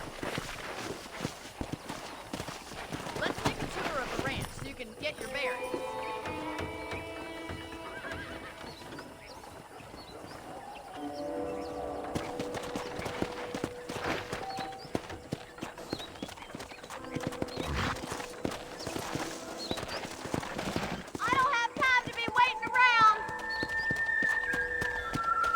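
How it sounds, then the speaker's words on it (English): Horse hooves clip-clop at a steady walking rhythm while riding in the video game Red Dead Redemption, with frequent whinnies and neighs mixed over a continuous game music bed. "let's see if you can still ride a horse"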